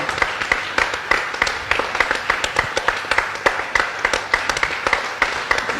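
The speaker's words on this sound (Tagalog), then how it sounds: "bigyan niyo po yung palakpak na yan" A church congregation claps in praise during a Filipino healing service, a steady loud run of hand claps with regular sharp accents throughout, with no talking over it.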